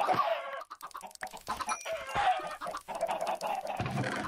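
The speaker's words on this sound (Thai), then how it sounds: "ไก่เพียบ" Chickens in the Minecraft video game cluck in close, repeated bursts with game noise and brief rooster-like calls running throughout, no talk over them.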